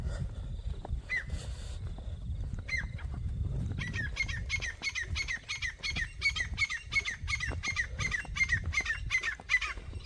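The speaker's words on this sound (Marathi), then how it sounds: "पक्ष्यांचा किलबिलाट" Birds squawking along a roadside before sunrise on the Narmada parikrama, with repeated harsh calls in a quick rhythmic series over a low background rumble, fairly close and clear.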